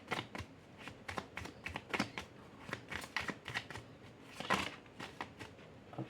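Tarot reading cards being shuffled and drawn by hand, a quick run of crisp riffling flicks and soft slaps repeating close up at a low, intimate level, with no talk.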